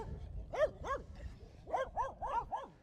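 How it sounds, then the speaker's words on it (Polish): Dogs bark in quick bursts beside a road near a new bridge over the Bug river, a pair of yelps followed by a faster run of four or five barks, moderately near over low wind rumble. "O, pieski."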